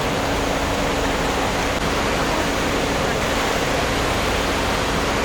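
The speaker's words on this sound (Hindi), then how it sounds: "गाइस पानी देखिए कितना बढ़िया बह रहा है।" River water rushes steadily beneath a bridge in a jungle setting, a loud, unbroken broadband roar of flowing water close by, with a voice briefly speaking over it.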